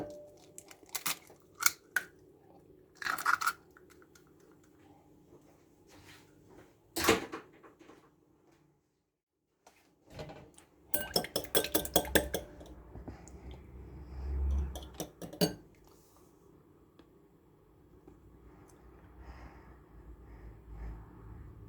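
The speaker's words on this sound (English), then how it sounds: "I'm gonna take my egg from here. I'm gonna break my 2 eggs." Two eggs cracked against a hard edge and emptied into a mixing bowl for an apple cake batter, sharp separate taps and cracks spaced across a quiet kitchen, with shell breaking and brief clatters, close and clear.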